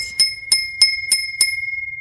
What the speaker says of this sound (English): the ringing of the bells.